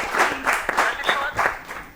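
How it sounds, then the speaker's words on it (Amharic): Children in a classroom applaud together in rhythmic bursts of group clapping, roughly one burst every half second, with some voices mixed in. "እሺ፣ አጨብጭቡላችሁ፣ አጨብጭቡላችሁ።"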